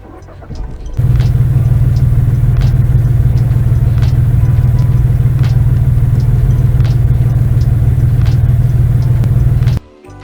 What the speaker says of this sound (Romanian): după se va porni motorul prin aducerea cheii în punctul 2